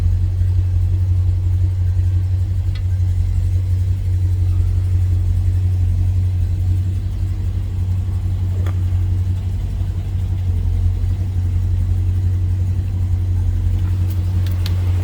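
A 1968 Dodge Charger R/T engine idles just after a cold start with a loud, steady, deep rumble that holds unchanged throughout, close by and with no voices.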